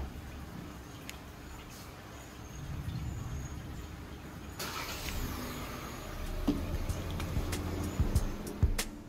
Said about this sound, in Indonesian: kita gunakan remote engine start seperti ini